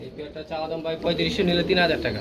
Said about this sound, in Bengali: বল পোটার কবুতর দেখেন বন্ধুরা